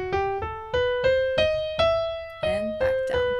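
Piano notes climb a harmonic minor scale one at a time in an even, moderate rhythm, each sounding clearly and ringing on, with a faint low rustle near the end.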